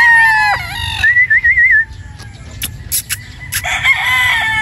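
Pure Boston Roundhead broodstag rooster crowing up close and loud: one wavering crow, a pause filled with a few sharp clucks and calls, then a second crow starting near the end.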